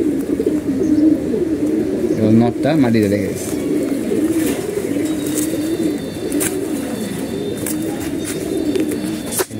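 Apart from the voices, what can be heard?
pigeons cooing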